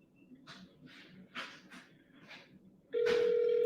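Soft scattered noises give way to a loud, steady telephone ringback tone that starts near the end and holds.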